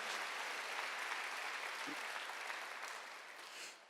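A church congregation at a Wednesday worship service bursts into loud, sustained applause that fades slightly toward the end.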